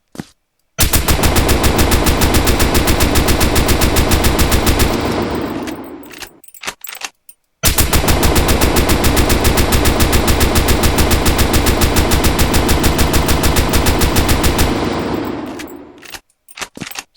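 Two long bursts of rapid automatic AK rifle fire in a video game, each a dense, punchy stream of shots that trails off, separated by a brief pause.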